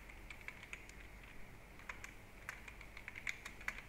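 Fast, irregular clicks of a computer keyboard as spreadsheet data is typed in, quiet and close with no voices.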